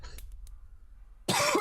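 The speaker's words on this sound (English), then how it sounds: "That's me coughing" A single close cough from a person after a short gap of near silence, loud and abrupt at the end.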